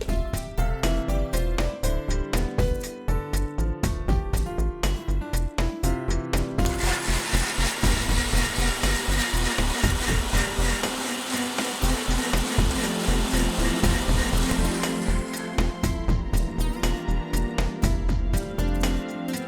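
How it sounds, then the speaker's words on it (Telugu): An electric mixer grinder blends fresh orange and lime juice, its motor running loud and steady throughout with a harsh, churning whir that pulses and intensifies midway. "సో దీన్ని మనం మిక్సీ చేసుకోవాలి"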